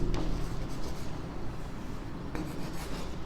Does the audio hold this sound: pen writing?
yes